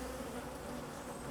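A dense, steady hum of honey bees buzzing around an open hive during nuc colony work, a continuous low drone close to the microphone with no voices.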